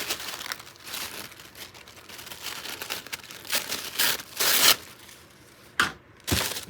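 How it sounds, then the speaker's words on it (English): Thin cicada wing paper is crumpled and crinkled by hand while making a grungy packing paper journal, with soft rustling building into several sharp, loud crackling bursts near the end. "That's that Cicada wing paper."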